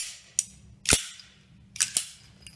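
A Colt Single Action Army .45 revolver fires outdoors: sharp, loud cracks with short decays, a few seconds apart, the two main shots strongest and a couple of lighter pops around them.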